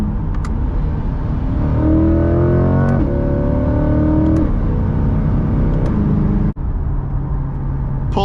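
A C8 Corvette in aggressive Z mode accelerates hard, its engine revving in rising, stepped pitches between gear changes, loud and close from inside the car, then settling into a steady cruise drone.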